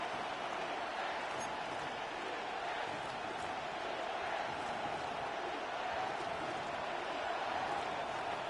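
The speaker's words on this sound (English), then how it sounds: "the crowd getting into it as we come up on a big third down" Football stadium crowd building before a big third down, a dense, distant roar of thousands of voices that holds steady and swells slightly, with no distinct speech.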